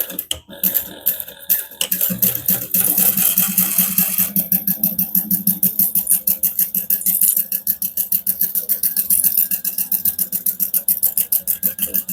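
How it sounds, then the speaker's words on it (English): A sewing machine bastes a zipper on a bag with a 1/4 inch seam, starting with a few short bursts and then running in a fast, steady mechanical rattle up close. "And we're going to baste it on using a 1/4 inch seam allowance."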